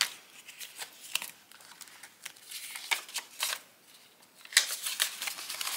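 Paper banknotes pulled from an envelope are counted by hand, producing quick crisp flicks and rustles in irregular bursts, close and fairly quiet.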